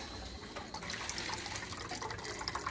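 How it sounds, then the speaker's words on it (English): Water runs quietly from an under-counter Kangen K8 water ionizer with separate alkaline and acidic outlets, a soft steady trickle with small splashes in a sink. "It has your alkaline water coming out of here and your acidic water coming out of here."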